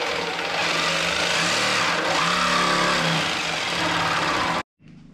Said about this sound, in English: I think it's gonna be easier just to cut it with the jigsaw right there.